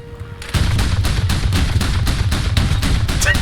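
Gunfire in War Thunder, a ground-forces battle on the Sons of Attila dev server, with a semi-automatic gun sounding as a steady string of loud sharp reports over a continuous low rumble.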